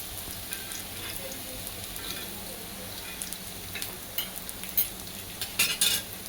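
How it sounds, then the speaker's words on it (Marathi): Bitter gourd (karela) slices frying in oil in a pan, a continuous close sizzle with occasional utensil clinks and scraping toward the end. "दुसरे पण काप असेच तळून घ्यायचे."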